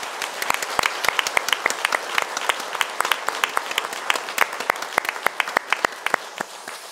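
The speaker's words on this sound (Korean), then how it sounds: "우리 박수로 주님 앞에 영광 돌리고 기도하겠습니다." A church congregation at the close of a Korean Sunday worship service breaks into sustained applause, a dense, loud wash of many hands clapping that fills the room throughout.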